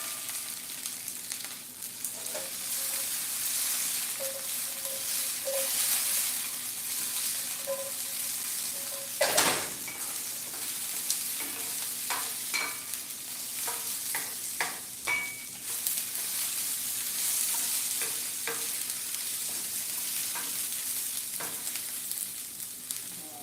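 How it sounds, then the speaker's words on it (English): Broccoli frying in a hot pan with a constant close sizzle, broken by occasional clanks and scrapes as it is stirred. "Get the broccoli in there. That takes it can take some heat as well."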